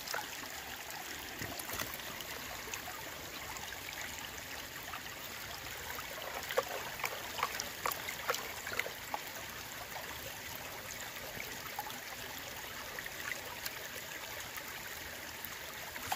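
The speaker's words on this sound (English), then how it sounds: "Gotta avoid some of this water flow here." Stream water flows steadily during gold panning at a placer site, a faint, continuous wash and trickle that carries on unbroken for about sixteen seconds, with a few soft splashes and no speech.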